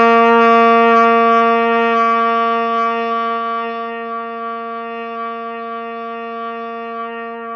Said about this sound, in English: We're going to start with an open C down low.